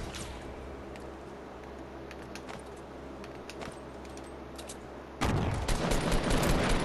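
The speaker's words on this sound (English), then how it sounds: "I'm throwing grenades that way, dude." Fortnite battle with steady gunfire crackling throughout and a loud grenade-like blast bursting in near the end, rumbling on for over a second.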